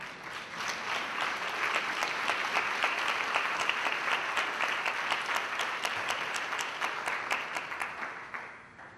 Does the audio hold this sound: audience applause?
yes